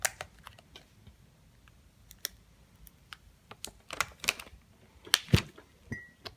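Vinyl transfer tape is peeled off a custom Valentine's Day mug, giving a run of faint, close crackles and sharp ticks with a few louder snaps near the end, and no voices.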